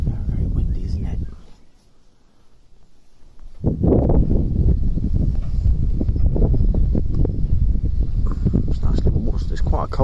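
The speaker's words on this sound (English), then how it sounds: "oh God, it's quite windy." Gusty, cold wind buffets the microphone in low, rough bursts aboard a narrowboat, easing briefly then returning strong and blustery, with a voice speaking faintly at times.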